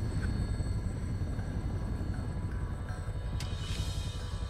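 A helicopter in Resident Evil 6 flies away, heard as a steady low rotor and engine rumble that holds level throughout, with a brief sharp effect near the end.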